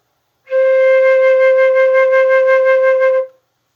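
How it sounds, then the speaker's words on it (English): A single sustained flute note played by a beginner, about three seconds long, with a gentle pulsing waver, played alone in quiet. "So, you've just made your first sound on the flute."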